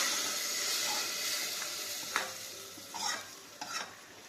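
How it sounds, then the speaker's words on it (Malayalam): Onions sautéing in a pan are stirred, a soft steady sizzle underlying a few scraping spoon strokes near the end, with no talk. "നന്നായി ഇളക്കി കൊടുക്കണേ"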